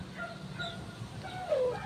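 Fighting rooster giving a short, faint crowing call near the end, over a low background hum.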